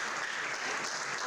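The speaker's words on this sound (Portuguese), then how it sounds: "Podem bater palmas" Audience applause at a school event, a dense, steady wash of many hands clapping together for just over a second, fairly loud and close, with no voices standing out.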